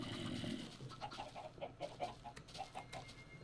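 A flock of Minecraft farm chickens clucks in short repeated bursts, fairly quiet and close, with several birds overlapping in a busy, uneven rhythm.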